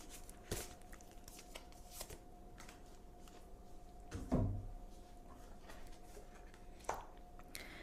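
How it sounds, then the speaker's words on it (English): Oracle cards being shuffled by hand during a card reading, soft papery riffling and scattered light taps heard close and quiet against faint room noise, with a couple of louder handling bumps. "let's choose an oracle card for the week for love"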